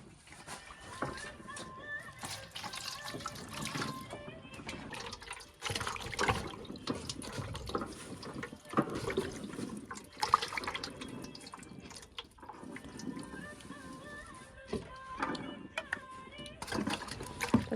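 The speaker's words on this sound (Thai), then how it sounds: "ล้างก่อนล้างเนาะ" Tap water runs and splashes while pork is rinsed before cooking in a home kitchen. The sound is irregular and gushing, with intermittent splashes and clatter, and a voice talks faintly now and then.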